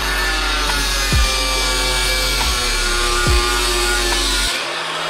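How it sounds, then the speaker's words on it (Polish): An angle grinder cuts through a cheap motorcycle anti-theft lock, a loud continuous grinding whine running steadily and close throughout with a few brief dips in pitch. "No szlifujemy coś."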